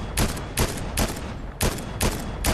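Rapid bursts of gunfire in the video game Fortnite, four or five loud broadband volleys in quick succession with short gaps of steady game noise between them, no talk.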